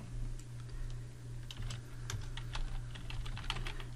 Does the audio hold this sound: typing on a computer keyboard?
yes